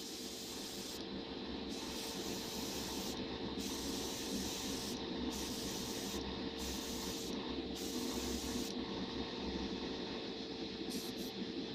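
Aerosol spray paint hisses steadily in light bursts over a Revell 1:112 Star Wars X-wing model part, with several short pauses between passes, close and continuous throughout.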